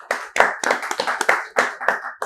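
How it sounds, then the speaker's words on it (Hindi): Brief, loud clapping from a small group in an AC PCB repair training class, a quick flurry of claps lasting about two seconds. "तो चलिए एक बार इनके लिए भी जोरदार ताली"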